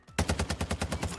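Automatic gunfire in Warzone 2: a quick burst of about nine evenly spaced shots, close and sharp, starting abruptly after a brief quiet moment.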